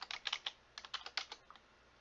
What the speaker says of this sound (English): type in their name